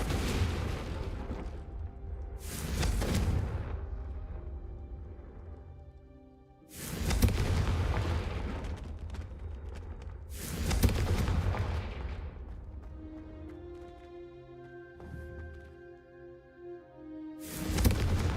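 Confringo fire spells cast in the Hogwarts Legacy video game, several heavy booming blasts in sequence, each a sudden loud burst that rumbles and fades, with a tonal in-game musical drone rising between them.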